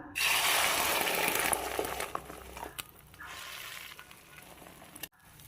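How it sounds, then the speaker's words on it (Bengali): Beaten eggs mixed with onion and chilli hit hot oil in a kadai, setting off a loud, bright burst of sizzling that settles into a softer crackle, broken by a couple of brief clicks. "এদিকে কড়াইতে আমি তেলও দিয়ে দিয়েছি, এবার ডিমটাকে দিয়ে দেবো।"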